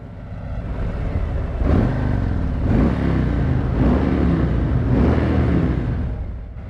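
A Harley-Davidson Sportster motorcycle engine revs in three or four loud surges, each rising and falling over a steady idle rumble, close by with no talking.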